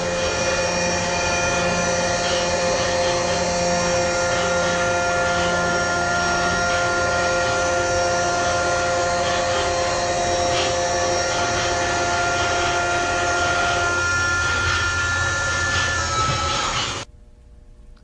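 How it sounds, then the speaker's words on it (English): A CNC machine spindle cutting a part, making a steady, loud, tonal whine with a constant mechanical hum that shifts pitch near the end, then drops off abruptly as the cut stops. "you'll actually be able to hear the spindle slow down a little bit as the tool pulls"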